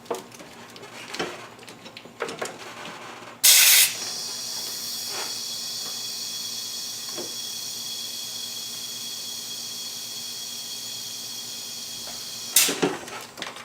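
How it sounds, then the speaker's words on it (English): During a turbo boost leak test, a steady air hiss leaks from the boost system through most of the clip, opening with a brief loud burst, with occasional clicks and knocks over it. "I can hear a leak."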